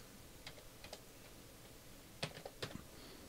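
Keys clack on a computer keyboard during invoice entry: a few soft taps early, then a louder cluster of two or three sharp key presses near the end, close and alone in a quiet room.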